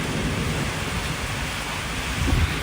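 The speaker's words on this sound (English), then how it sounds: "Can you hear the rain?" Steady heavy rain pours outside during a storm, a dense broadband hiss with a low rumble of thunder swelling near the end.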